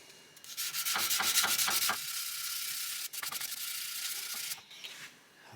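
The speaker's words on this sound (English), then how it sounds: "I'm afraid it's a lot of rather boring sanding from here on for a while." Sanding the head of a rusty ball peen hammer, with quick rhythmic rasping strokes in a burst, a continuous stretch of steady scraping, then short pauses and more sanding, close and alone.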